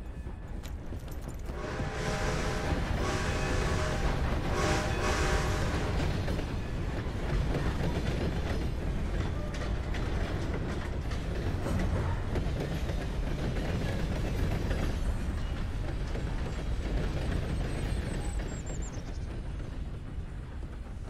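A train runs in the video game Red Dead Redemption 2, a steady rumbling roll with faint clickety-clack and metallic rattles, loud and continuous with no talk.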